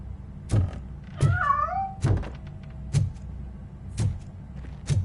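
A cat meows once in a rising, wavering cry inside the video game RoboCop: Rogue City, set amid a series of heavy, evenly spaced metallic footstep thuds about once per second.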